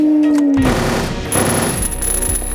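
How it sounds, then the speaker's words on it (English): Rapid, continuous bursts of submachine gun fire in the survival horror game Silent Hill 3, loud and close, running unbroken with a dense mechanical rattle. "We have a submachine gun."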